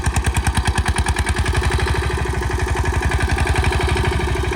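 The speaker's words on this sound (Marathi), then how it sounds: "15 HP ट्रॅक्टर आहे मित्रांनो. Single piston," A single-cylinder 15 HP Yuvraj 215 tractor engine, pulling a seven-tine seed drill while sowing, chugs steadily with rapid, even thumping pulses, close by and loud, with no voices.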